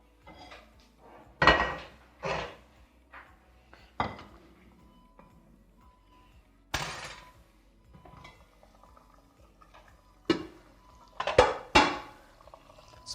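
A cooking pot of cumin-spiced soup is handled on the stove, with several sharp metallic clanks and scrapes of lid and utensil spaced through the quiet, plus faint liquid sounds, no talk.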